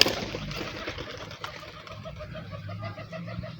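Pigeons coo in soft, repeated rhythmic calls at moderate distance, against faint background noise.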